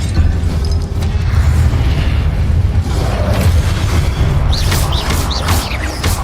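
A loud, sustained Confringo spell explosion in Hogwarts Legacy: a deep rumbling boom that fills the whole stretch, with crackling debris and bright bursts flaring near the end.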